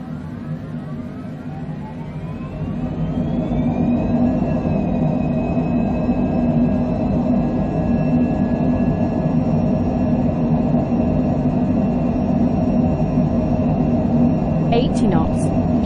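Cessna Longitude business jet on its takeoff roll in Microsoft Flight Simulator, a steady roaring engine drone with a rising whine that swells after a couple of seconds and holds, while a pilot calls out throughout.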